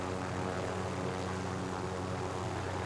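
Helicopter in the video game Call of Duty Modern Warfare Warzone, a steady close rotor and engine drone that holds constant and loud without pause, with no talking.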